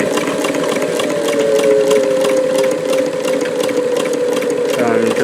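A Davis vertical feed long needle sewing machine fitted with 15X1 needles runs steadily, a continuous close mechanical hum with rapid stitching ticks throughout.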